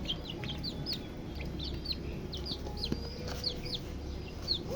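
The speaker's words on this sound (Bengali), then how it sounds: "মুরগি" Chickens cluck and chirp softly in short repeated calls, some distance off, over a steady background hum with no talking.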